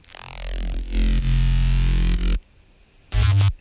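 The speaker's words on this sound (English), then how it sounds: "I'm saturating a little bit on the whole bass group" A heavy, saturated hardwave bass synth plays a few loud, gritty distorted notes, with a short pause before a final punchy hit.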